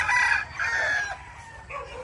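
A Roundhead gamefowl rooster crows loudly nearby in long drawn-out calls, followed by softer clucking from other birds.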